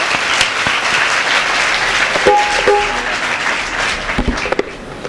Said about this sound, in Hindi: जिन्होंने हमें दर्शन कराए उन सभी बच्चों के लिए जोरदार ताली बजाओ एक बार अच्छे से।